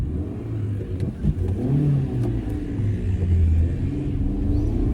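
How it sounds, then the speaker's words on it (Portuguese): A broken-down motorcycle rumbles close by as it pulls up and idles, its engine revving unevenly in a low, continuous drone over the street. "parou uma moto aqui na minha frente com 2 suspeitos, mas era só uma moto enguiçada"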